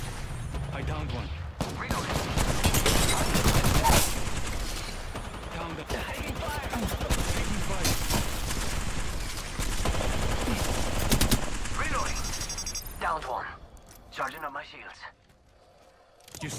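Sustained rapid automatic gunfire crackles through an Apex Legends match in loud, dense bursts for most of the stretch, with in-game character voice lines over it before it thins out near the end.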